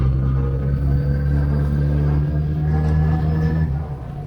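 A motorcycle engine rumbles with a steady, low, humming drone near a canal and hydroelectric plant in Germany, holding loud and close before fading away at the end.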